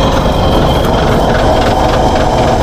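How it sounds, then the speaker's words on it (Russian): A bus engine, a Vector 410, idles at low revs with a loose metal part rattling. Steady, loud low rumble and vibration run unbroken throughout, with no voices. "Мотор у него громыхает что-то на холостых."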